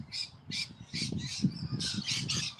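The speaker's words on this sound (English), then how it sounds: "Listen to those rainbow lorikeets." A flock of rainbow lorikeets squawks in rapid, overlapping harsh calls, loud and close, continuing without a break.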